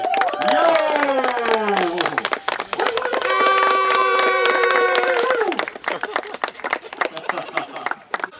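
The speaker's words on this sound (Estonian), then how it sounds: "Tõstame käed ülesse ja teeme Tõnnile ühe aplausi" Crowd applause and cheering at the finish area of the Estonian national downhill mountain bike championships, loud and sustained with voices talking and calling over it.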